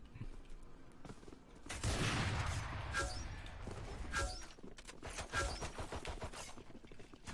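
A sniper rifle shot in a competitive shooter game, heard as a sharp burst of gunfire followed by a rolling, echoing tail and scattered in-game noises.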